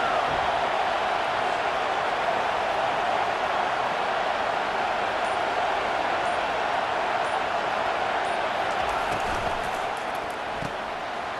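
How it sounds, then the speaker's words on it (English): Sustained home crowd roar at a Texas vs USC college football game, a steady, broad wash of cheering that holds evenly throughout with little variation. "Here comes this home crowd as the defense tries to get off the field on 3rd down."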